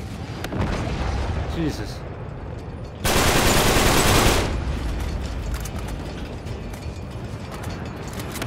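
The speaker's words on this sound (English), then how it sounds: "Shot rockets at us." Rockets fire and explode in Uncharted 3, with a loud broadband blast lasting about a second midway amid mechanical clatter and rattling gunfire, while a man exclaims under the noise.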